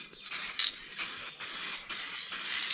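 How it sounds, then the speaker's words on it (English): Guide coat sprayed from an aerosol can onto car bodywork on the rear quarters, in repeated steady hissing bursts of about half a second each with brief gaps, close and fairly loud, no talking. "Use some guide coat now on this."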